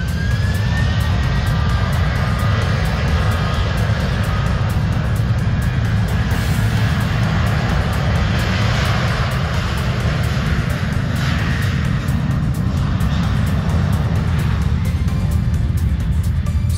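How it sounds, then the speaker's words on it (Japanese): A Boeing 737 airliner taking off at an airport, a loud, continuous jet engine roar that holds steady for the whole stretch, with no voices. "そして、この737が離陸をしていくことになります。"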